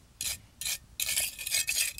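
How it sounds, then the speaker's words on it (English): Steel trowel working the edges of wet concrete on a DIY patterned sidewalk, producing close, scraping rasp strokes: two short passes, then a longer stretch of continuous back-and-forth smoothing. "I'm going to take the trowel, just going to kind of roll it in and smooth it out"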